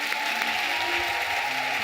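A church congregation applauding and cheering for Jesus during a sermon, a steady, dense wash of clapping and crowd noise at moderate volume throughout, with no clear individual voice on top.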